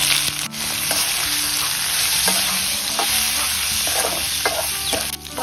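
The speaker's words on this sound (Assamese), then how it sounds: "মাংসখিনি অকণমান ভাজি লৈছোঁ" Smoked pork pieces frying in a pan sizzle loudly and steadily, with repeated scraping and stirring clicks over the constant crackle, close up and with nobody talking.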